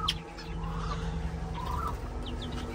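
Chickens clucking and calling steadily around a grain feeding spot, several birds close by with occasional sharper calls and a brief wing flutter, under a constant low hum.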